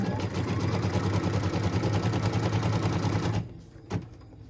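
An embroidery machine stitches a cut line on a quilt block. A steady rapid mechanical rattle runs close and loud for about three and a half seconds, then stops, leaving a brief knock and quiet.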